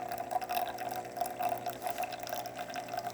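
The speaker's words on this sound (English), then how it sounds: "And as you can see, a steady flow coming from the spout." Water flows steadily from the spout of a repaired Jura Impresa J9 coffee machine, a faint, continuous trickle with a light splashing texture and no voices.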